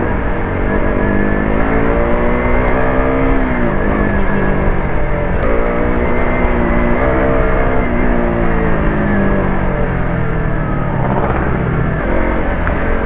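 A KTM RC 200 motorcycle, a 2018 model with its limiter removed, runs loud and steady while being ridden, its engine note rising and falling through gear changes.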